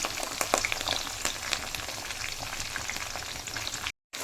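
Curry leaves, cumin and peanuts fry in hot oil with a dense, close crackling sizzle and scattered sharp pops, running steadily before cutting out briefly near the end, with no speech.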